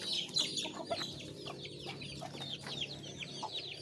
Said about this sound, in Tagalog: Yan, nagpapakain na tayo sa ating mga alagang manok.